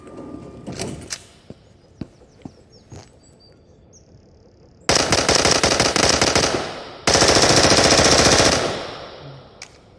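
Bursts of automatic fire from the compact PP-91 Kedr submachine gun in the VR shooter Into the Radius, with two long, loud rapid-fire volleys after several quieter clicks and handling sounds of the weapon.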